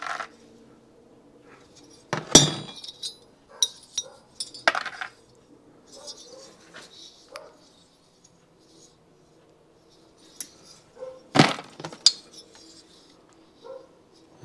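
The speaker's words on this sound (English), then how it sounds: "Okay, dump those washers." Metal washers from a disassembled Yamaha HS1 90 twin engine are dumped out, giving bursts of bright metallic clinks and clatter, some loud and close, separated by quiet gaps.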